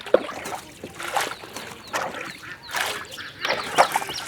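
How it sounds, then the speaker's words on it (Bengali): A wooden rowing boat on a flooded wetland in Barisal, Bangladesh, with rain falling on and off, gives close, irregular knocks, creaks and small water splashes that come in scattered bursts. "তো এখন উঠে যাচ্ছি এই নৌকায়"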